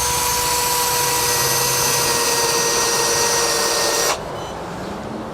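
A handheld drill press with a drill bit bores into a workpiece, giving a steady loud motor whine for about four seconds before it cuts off abruptly and leaves a quieter hum.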